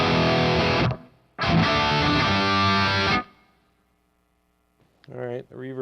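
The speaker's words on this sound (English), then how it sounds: "All right, the reverb's not bad." Distorted electric guitar chords ring out in two bursts through a Headrush Prime amp model, with a reverb tail decaying into quiet before a few short plucked notes.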